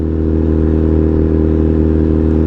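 A Honda CBR1000RR SP sport bike fitted with an SC exhaust and a quickshifter runs at night, a loud, steady engine drone with strong harmonic hum and no clear shifts or talking.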